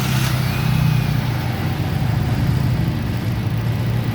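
A Nissan Grand Livina engine, just fitted with a new ignition coil, runs at a steady idle: a continuous low rumble close by with no talk over it.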